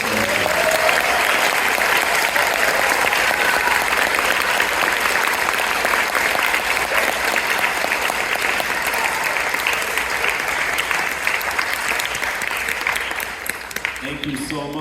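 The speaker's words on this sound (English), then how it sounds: "Let's give a huge round of applause for them." A high school spring concert audience in a school hall gives sustained, full applause to graduating band seniors, loud and steady for about fourteen seconds before tapering off.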